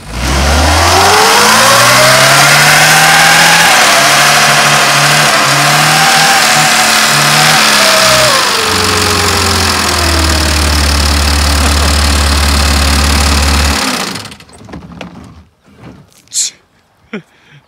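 A Pontiac car engine revs loudly and roughly, rising and falling in pitch with a rattling, knocking edge, then settles into a lumpy idle before cutting off, leaving a few faint knocks.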